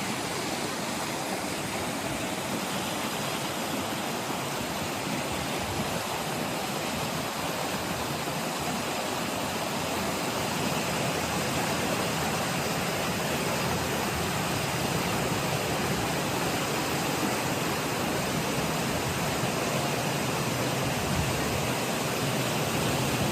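Steady roar of a waterfall dropping down a rock wall in Iceland, a continuous broadband wash of falling water heard close and loud throughout, with no voices.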